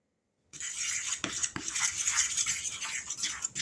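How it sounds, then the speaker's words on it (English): A spoon stirring a powdered sugar mixture in a bowl, a steady close scraping and swishing rub beginning after a half second of silence, with a couple of light clinks. "I'm going to stir this up before I add that last one."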